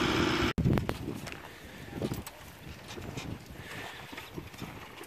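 Amish buggy horses' hooves clip-clopping on pavement at an auction in Holmes County, Ohio, a steady sequence of moderately close hoofbeats over wind, after a brief noisy start.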